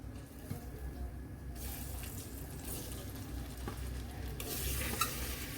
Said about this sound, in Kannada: ಒಂದು ಮೀಡಿಯಂ ಫ್ಲೇಮಲ್ಲಿ ಒಂದು 3 ನಿಮಿಷ ಜಸ್ಟ್ ನಾವು ಅದನ್ನು ಮಿಕ್ಸಪ್ ಮಾಡ್ಕೋಬೇಕಾಗತ್ತೆ